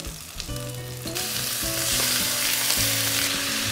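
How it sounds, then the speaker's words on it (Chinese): Marinated fatty-skinned duck meat hits a hot oiled wok, the sizzle swelling into a loud, dense hiss after the first second and holding steady beneath background music, with no voices. "昨天腌过的鸭肉下锅炒。"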